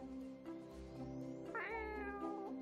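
Cats meow in The Cat Machine puzzle game, several drawn-out cartoonish meows rising and overlapping over a low background hum, close and clear with no talking.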